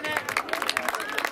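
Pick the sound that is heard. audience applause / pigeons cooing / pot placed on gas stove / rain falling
audience applause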